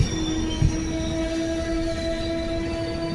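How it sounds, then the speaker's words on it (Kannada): A steady train rumble fills the air, with a long sustained tonal whine like wheels squealing or a distant horn, no voices. "ಟ್ರೈನ್ ಬಂದಿದೆ ನೋಡಿ ನಮ್ಮ ಟ್ರೈನ್"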